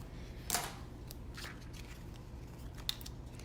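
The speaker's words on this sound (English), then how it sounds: "So let's do that quickly with my sticky scissors" Sticky craft scissors snipping through paper or tape, two short sharp cuts, one early and one near the end, over a soft steady room hum with faint rustling between.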